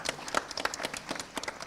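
Brief scattered applause from the audience at a national financial literacy quiz, honoring a team that finished partway down the standings, with a few irregular hand claps close by and fairly quiet.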